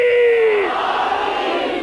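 A gathering at a religious majlis answers with a loud, unified shout of the slogan Haidari, one strong held cry that swells and then fades away.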